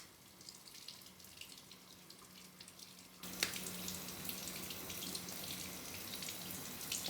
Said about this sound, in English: you can take your sponges, get them wet